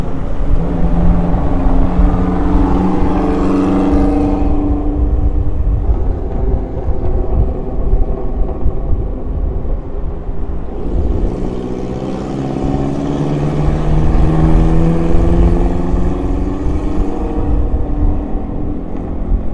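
Car driving along a quiet Sunday street in Manado, a steady engine hum with shifting tonal drone as it accelerates and eases off, close and continuous with no voices.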